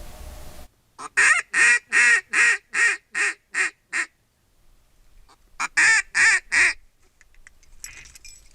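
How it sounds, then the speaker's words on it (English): A group of ducks out on the water gives loud, close bursts of rhythmic honking calls, about a dozen in a quick series, a pause, then several more. "That's a lot of ducks out there."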